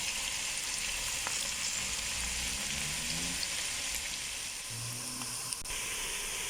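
Garlic, crushed chili, mixed herbs and black and white pepper fry in a pan for a vegetable stir fry, giving a steady, even sizzle with faint stirring scrapes and no voices.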